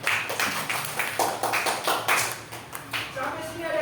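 A group of students in a lesson clap for a classmate named Atan, brief rhythmic bursts of hand claps mixed with voices talking over them.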